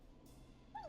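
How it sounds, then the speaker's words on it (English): A neighbor's dog sounds once at night, faint and distant, a short yip near the end of a quiet stretch. "Is that a neighbor's dog?"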